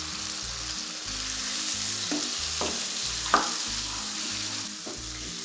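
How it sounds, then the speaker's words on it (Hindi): Finely chopped tomatoes sizzle and fry steadily in a pan for aloo gosht, a continuous close hiss broken by a few sharp stirring clicks and scrapes. "अब एक प्याली में टमाटर ऐड कर रही हूँ। ये बारीक चॉप की हुई है।"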